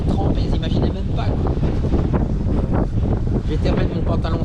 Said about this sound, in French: Je sens le vent qui remonte un petit peu.